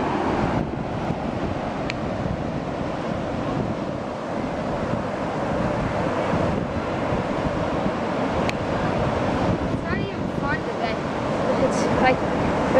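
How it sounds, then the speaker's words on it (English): Ocean surf washes and churns in a continuous broad roar, with wind buffeting the microphone and brief splashy sounds toward the end. "And we're going in the surf."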